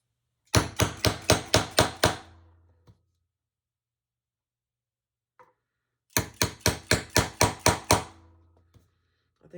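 A hammer pounds leather while an unlined tote is being made, in two bursts of about seven sharp, close, evenly spaced blows separated by a quiet pause.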